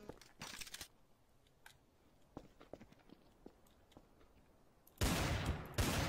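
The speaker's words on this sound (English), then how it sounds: "Uh, I'm getting shot." Gunfire in Garry's Mod Trouble in Terrorist Town: a rapid burst of shots opens, scattered single cracks and clicks follow, then a louder sustained volley near the end.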